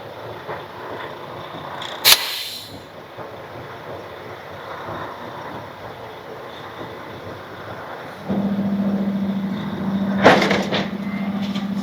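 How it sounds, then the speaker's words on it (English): Air suspension airbags on a pickup truck set up for towing fill and equalize with a steady hum and hiss that rises partway through, between a sharp clunk near the start and another near the end. "Now the airbags are filling up some and kind of equalizing."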